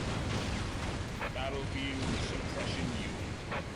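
Twin Dreadnoughts fire their cannons in the Warhammer strategy game Dawn of War, a dense continuous rumble of heavy battle booms and blasts that fills the whole stretch, loud and close.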